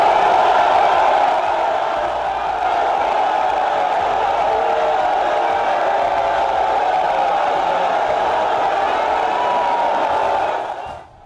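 A large crowd of supporters thronging former Delta State governor James Ibori's country home in Oghara sends up a continuous, loud roar of cheering and shouting that holds steady before cutting off abruptly.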